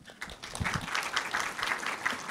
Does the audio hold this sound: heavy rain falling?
no